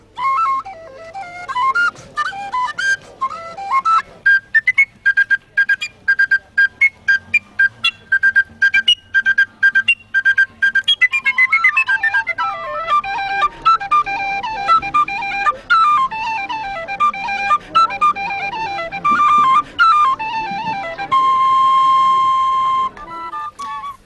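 A Clarke tin whistle plays a lively, ornamented melody of quick bright notes, shifting between runs and held tones, solo and close.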